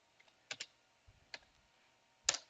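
Keystrokes on a computer keyboard entering Cisco router commands, a few sharp clicks in small clusters with pauses between, close and fairly faint in a quiet room.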